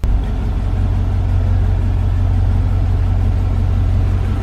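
A 1999–2006 GM truck engine catches at once and settles into a loud, even, steady run close by. The low rumble holds unchanged to the end.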